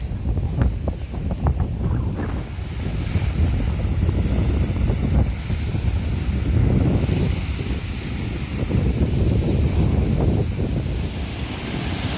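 Sea waves roll onto the shore at Mersin, Turkey, on a morning beach, a continuous loud wash of surf with heavy wind buffeting the microphone, no voices.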